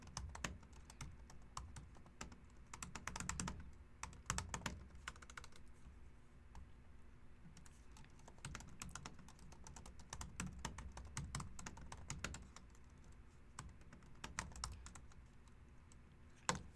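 Steady typing on a computer keyboard, with bursts of quick, fairly quiet keystrokes and brief pauses, heard alone at close range.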